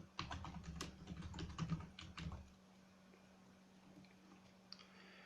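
Typing on a computer keyboard while filling in a Google Sheets spreadsheet: a quick run of close, crisp key clicks for about two seconds, then a low steady hum with a few faint scattered taps.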